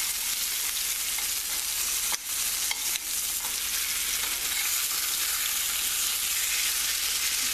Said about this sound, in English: You hear that sizzling, and you see it sizzling like this